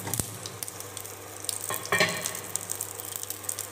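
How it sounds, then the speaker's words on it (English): Drumstick pieces sizzle steadily in hot oil with mustard seeds, with a constant close frying hiss broken by a few sharper crackles and stirring scrapes. "When the mustard flutters, then add the drumstick."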